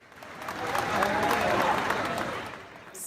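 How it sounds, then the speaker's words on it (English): Applause from a gathered crowd at a political event for German chancellor Angela Merkel, swelling and fading over a few seconds, heard fairly distant and soft. "Smiles and applause there"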